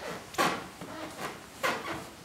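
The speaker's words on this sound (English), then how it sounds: "A lot of squeaking going on too." A carpeted bathroom floor with wood-rot damage near a shower curb squeaks and creaks faintly underfoot, with two clearer groaning creaks and softer ones between, quiet and close, no talking.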